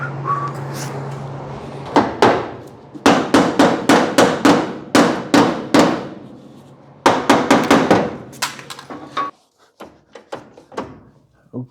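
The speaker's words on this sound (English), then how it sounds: "I think it's rubber mallet time." A rubber mallet pounds a custom rocker panel on a 1951 Ford in a steady run of loud, close, evenly spaced blows. The rhythm pauses briefly, resumes, then ends in a few scattered lighter taps.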